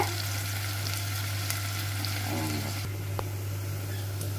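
Spices and aromatics for a drumstick aviyal sauté lightly in a pan with a steady low frying hiss, a brief stirring scrape and a low constant hum underneath. No one talks.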